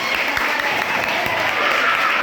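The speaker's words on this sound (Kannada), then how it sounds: "ಚಪ್ಪಾಳೆ ತಟ್ಟಿ ಅವರಿಗೆ." Applause for students at a college, a dense continuous wash of clapping from a room full of people, steady and fairly loud for the whole moment.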